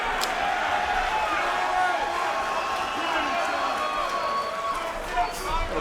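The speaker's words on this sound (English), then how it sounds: "A pop from the crowd for Shawn Stefanelli." An arena crowd at a PFL mixed martial arts event cheers and roars in a sustained swell, with an excited commentator talking over the noise throughout.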